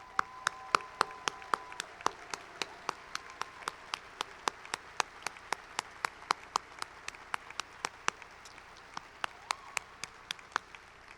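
Sparse, evenly spaced claps ring out in a quiet hall at an awards event, a single steady clapper or small group keeping a regular beat for about eleven seconds.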